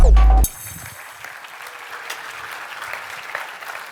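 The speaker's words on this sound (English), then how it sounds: "Give it up for Akshat!" Audience applause for a speaker being introduced at a React Native software conference, opening with a loud burst that settles into steady, moderate clapping from a crowd across the room.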